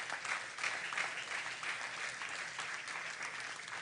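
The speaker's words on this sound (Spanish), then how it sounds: "Puedes darle ese aplauso al Señor" Church congregation applauding together during a Spanish-language sermon, a dense, steady wash of clapping at moderate volume that holds evenly throughout without a break.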